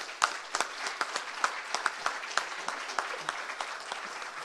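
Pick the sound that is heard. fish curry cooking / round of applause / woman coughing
round of applause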